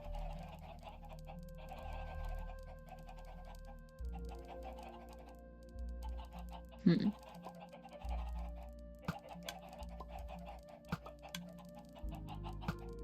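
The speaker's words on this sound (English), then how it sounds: "Suppose we could try it with less chickens" Minecraft chickens packed into a survival-mode redstone egg farm, giving scattered short clucks and one sharp louder squawk midway over steady background game music.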